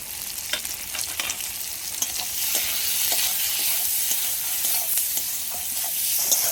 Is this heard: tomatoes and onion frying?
yes